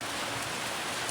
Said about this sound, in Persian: باورم نمیشه این بارونو.